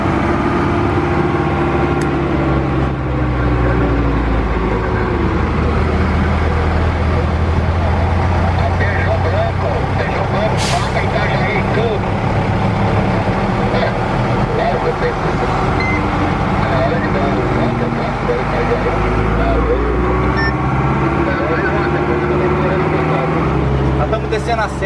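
Heavy motorhome descending a mountain road in third gear with engine braking, a steady loud low rumble of engine and road noise running throughout alongside a person talking.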